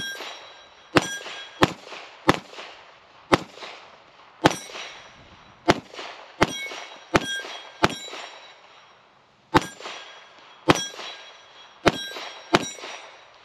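Pistol shots fired with a Trijicon RCR red dot at 25 yards, each crack followed by a ringing clang off steel targets, about a dozen paced, evenly spaced hits, loud and close with no talk.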